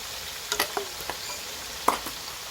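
Banana chips are stirred as they fry in hot oil: a soft sizzle runs underneath a few light scraping clicks and taps from the stirring utensil, all fairly quiet.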